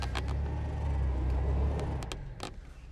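A 2005-era Jeep Wrangler engine rumbles steadily while driving in sand, a close, low drone with a few sharp knocks or clunks near the end.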